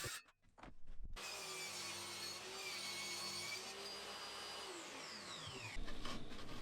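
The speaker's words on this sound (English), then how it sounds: "I cut the plywood to length with the circular saw and ripped it to width on the table saw." A table saw ripping plywood to width: the motor spins up, then a steady loud whining cut runs for several seconds before the blade pitch drops as the cut ends.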